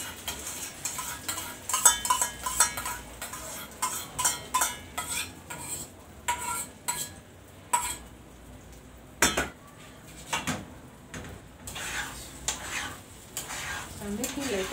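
A utensil stirs scrambled eggs in a pan of hot oil, with irregular clinks and scrapes against the metal over a faint sizzle, close and fairly quiet.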